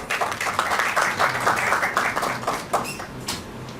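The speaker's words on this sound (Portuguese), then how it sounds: "a doutora Luana, uma salva de palmas para ela, por favor." Applause for a doctor at a cooperative panel event, a few seconds of moderate clapping from a small audience that stays fairly steady and then thins out toward the end.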